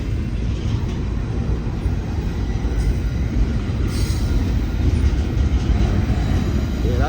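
Union Pacific intermodal freight train rolling past on the Coast Subdivision in Oakland, California, a continuous loud rumble of wheels and cars with faint flange squeal, heard close and unbroken throughout.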